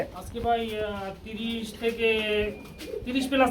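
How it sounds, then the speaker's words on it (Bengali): Pigeons coo in overlapping, repeated low throaty calls, fairly close and steady throughout, with a voice speaking over them. "আমার পিছনে ডানে বামে সব দিকে খালি কবুতর আর কবুতর"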